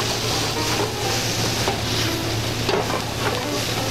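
Potato, cauliflower and bacon sizzle steadily in a hot pan, a dense, continuous frying hiss that stays loud throughout with no talking.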